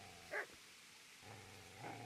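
A dog in the medieval game Kingdom Come Deliverance gives one short, sharp bark, followed by a faint low growl that trails off, with no talking.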